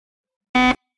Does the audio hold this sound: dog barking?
no